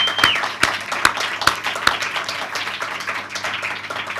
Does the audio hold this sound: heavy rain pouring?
no